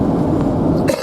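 A man gives a short, harsh cough up close, a single burst over a low background rumble.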